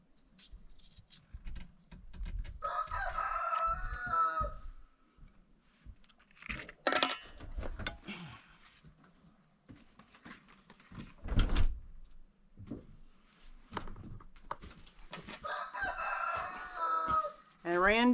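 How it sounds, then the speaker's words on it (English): A rooster crows several times on a remote Alaska homestead during spring garden planting, the calls loud and fairly close, separated by quieter stretches with people talking and light rustling of soil and tools. "And Randy the rooster is making his noise."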